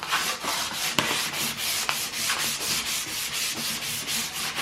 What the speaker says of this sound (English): Now I've got some 320 grit sandpaper. I'm just going to hit the top and side of the board